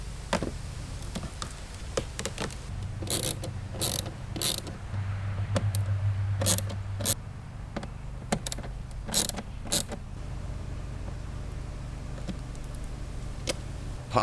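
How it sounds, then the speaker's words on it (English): A ratchet tool clicks and whirs in quick bursts while 7mm bolts come out of the cabin air vent of a 2008 Cadillac CTS. The work is close up over a steady low hum, with no talking. "3 7mm bolts to remove."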